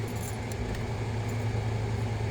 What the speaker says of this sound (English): See what happens when that compressor kicks in.